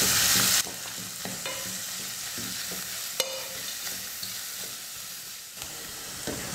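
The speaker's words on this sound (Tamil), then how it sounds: "எல்லாத்தையும் சேர்த்து நல்லா வதக்கிக்கலாம்." Sliced onions, dried red chillies and curry leaves sizzle in hot oil for sambar, a steady close frying hiss with the scrape and clatter of stirring running throughout.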